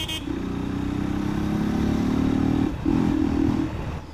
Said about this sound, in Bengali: এটা হচ্ছে ইউনিফিল্টারের সাউন্ড।